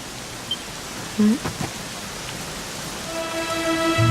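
Rain falling in the game Dragon Quest XI, a steady hiss of rainfall throughout with a few brief tones, and soft musical notes entering near the end.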